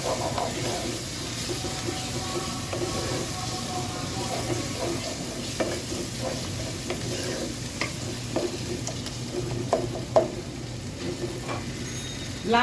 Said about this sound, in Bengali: এখন এই সব কিছু একসঙ্গে খুব ভালো করে কষিয়ে দিচ্ছি